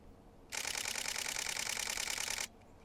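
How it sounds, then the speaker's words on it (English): Nikon D500 camera shutter firing a rapid continuous burst of clicks for about two seconds, loud and close against a quiet background, with no talking. "But listen what happens when I press the shutter on this thing."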